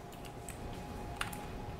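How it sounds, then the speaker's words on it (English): Fast typing on a computer keyboard during a livestream, a quick flurry of light clicks and taps under a steady background hum, fairly faint, with one sharper key strike partway through. "They can hear me typing really fast because I'm trying to answer questions about the holostream."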